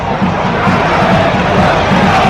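Chelsea home crowd at an EFL Cup match against Middlesbrough roaring and chanting steadily in support of their defending side, a loud, dense stadium wall of sound with rhythmic swells throughout.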